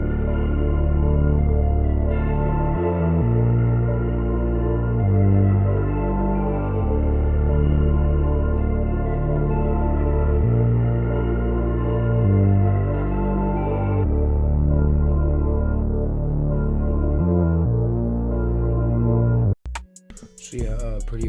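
Melodic music sample built for a beat plays on its own, looping sustained chords that shift every couple of seconds, then breaks off abruptly near the end.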